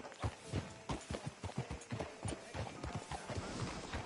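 Horse hooves clip-clop at a steady walking pace in Red Dead Redemption 2, a close, even run of distinct thuds over about four seconds with no talking.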